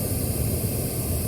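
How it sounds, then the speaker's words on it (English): Pink noise test signal playing steadily through Harley motorcycle radio speakers during an acoustic analysis, a continuous broadband hiss, bass heavy and loud, with no other sounds. "we got some pink noise playing"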